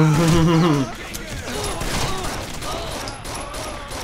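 Bursts of gunfire from the Rainbow Six Vegas video game fill the scene as a steady, dense clatter of shots, with someone talking over the start.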